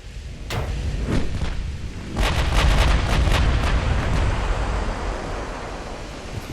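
Battleship guns in Ultimate Admiral: Dreadnoughts fire high explosive shells, giving a loud rumbling salvo of repeated heavy booms over a constant roar of sea and wind.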